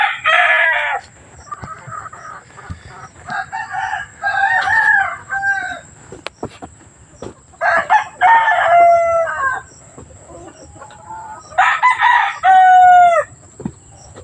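Backyard chickens at a poultry yard cluck while a rooster crows loudly and close several times in repeated bursts, with brief quiet gaps between the calls and no talking.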